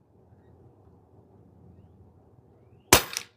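A single sharp shot from a Pinty 9 .22 calibre bullpup PCP air gun fired from a tripod, a loud crack with a brief tail after near silence with faint low background noise.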